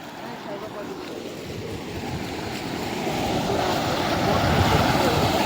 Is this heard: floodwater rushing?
yes